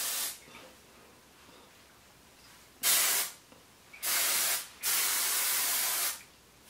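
Honey spray misted onto a blonde bob wig with a fake scalp in short hissing bursts: a faint first puff, then three loud, close sprays of roughly one to one and a half seconds each, separated by brief pauses.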